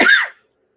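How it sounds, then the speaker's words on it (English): A single sharp cough, close and loud, cutting off quickly into silence. "Man, this cough, bro."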